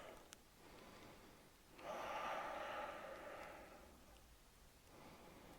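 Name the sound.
deep breathing in through nose, out through mouth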